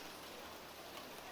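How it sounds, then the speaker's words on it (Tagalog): Light rain falling on a wet morning after a week of steady drizzle, a soft, continuous, faint patter with no voices. "Isang linggo na pong umuulan dito."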